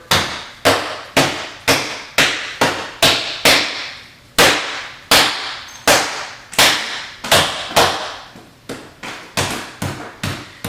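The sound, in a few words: banging on a big ball of stromboli dough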